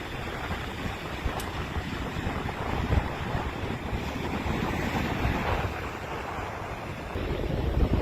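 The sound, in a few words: strong waves pounding against the shore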